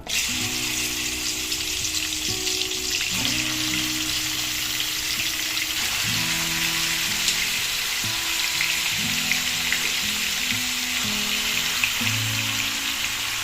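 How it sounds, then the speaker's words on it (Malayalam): Chicken pieces fry on a high flame in three tablespoons of coconut oil for a Kerala-style chicken curry, a loud constant hissing sizzle running throughout with background music underneath and no talking. "ഫ്ലെയിം നമ്മൾ ഹൈയിലാണ് വെച്ചിരിക്കുന്നത് ചിക്കൻ ഒന്ന് ഫ്രൈ ആയിട്ട് വരട്ടെ"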